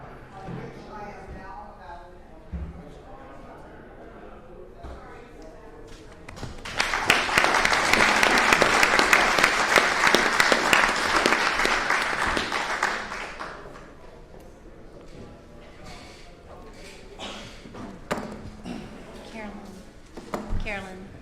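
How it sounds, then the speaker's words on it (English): Applause at a special city commission meeting in Cocoa Beach, a dense burst of clapping swelling up midway for several seconds before fading out, with people talking before and after it. "And applause for our commission, please."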